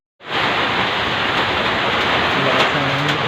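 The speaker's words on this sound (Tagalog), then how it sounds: "Lakas ng hangin." Strong wind and heavy rain sweep across a farm field as a loud, constant roaring wash that starts abruptly, with a faint voice briefly near the end.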